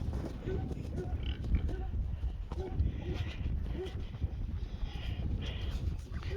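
A farm animal calls out now and then over steady wind and outdoor rumble, with some faint voices nearby.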